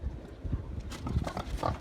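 Vietnamese pot-bellied piglets, about a month old, on a farm, giving soft, low, irregular grunts and snuffles close by at a quiet level, with faint shuffling between them.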